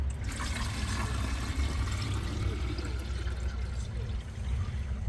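White vinegar and water pour into a rust-removal tank, a steady, fairly loud splashing rush that runs unbroken throughout with no talking.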